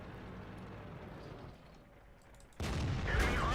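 A single heavy tank cannon shot in World of Tanks, a sudden loud boom with a lingering roar that breaks a quieter stretch of low engine rumble and distant battle noise.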